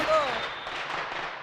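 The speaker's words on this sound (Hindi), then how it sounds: "सुतली बम अपनी इधर ही फूट गई क्या? हाय दया, ये पटाखे।" A sutli bomb firecracker goes off in a Bollywood comedy scene. A sharp burst with a brief whistle is followed by a hissing, crackling decay.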